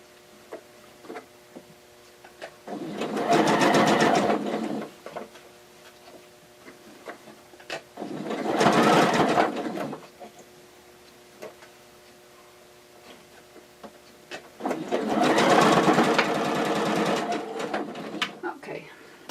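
A sewing machine stitches fabric face masks in three separate bursts of steady rapid whirring, each a few seconds long with quiet pauses between.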